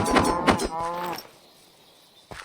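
Cattle lowing in a video game, two or three close, drawn-out moos in quick succession, then quiet background with a faint thud at the end.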